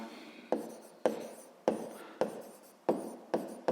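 Pen or chalk strokes write in a notebook during a math lesson, a series of seven sharp, close scratches arriving at a steady rhythm, each fading quickly, with no talk.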